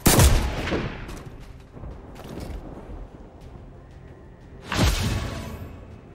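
Gunfire aimed at an enemy in the XCOM 2 video game, a loud burst of shots at the start followed by a quieter rattling tail and a second heavy volley near the end, with no talk.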